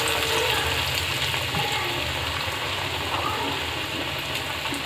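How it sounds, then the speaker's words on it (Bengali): Pakoras dropped a little at a time into hot oil, frying with a steady, dense sizzle and bubbling hiss that holds at an even, close level throughout. "তেলটা গরম হয়েছে, তো এখন আমি অল্প অল্প করে পাকোড়াটা দিয়ে দিচ্ছি।"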